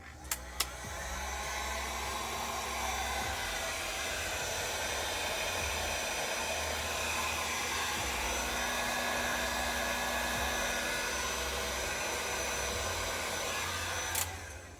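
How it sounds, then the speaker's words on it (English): A heat gun blows a steady, loud, continuous roar as it shrinks heat shrink tubing over speaker wire for a rear speaker adapter on an 82-92 Camaro, with brief clicks at the start and end when it switches on and off. "use a heat gun or lighter to shrink down the heat shrink"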